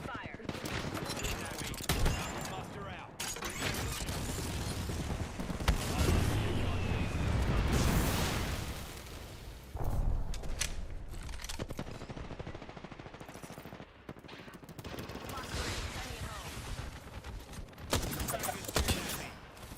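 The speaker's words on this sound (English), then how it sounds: "Stand back, knuckle clusters firing." Knuckle cluster weapon fire in a video game, rapid dense bursts of gunfire and explosive blasts, loud and near, running in several long volleys with a voice talking over parts of it.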